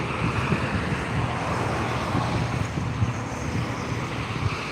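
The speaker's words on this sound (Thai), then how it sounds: "มันลมแรง" Loud, continuous buffeting wind with low rumbling gusts battering the microphone, steady throughout with no voices.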